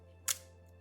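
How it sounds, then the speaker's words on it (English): A Kodak Vollenda folding camera shutter fires with a single sharp, quiet click, alone against a faint hum. "and release the shutter."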